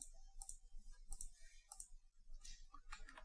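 A computer mouse clicks several times in a row, sharp little ticks spaced irregularly and heard close up at low volume in a quiet room, with faint rustling between them.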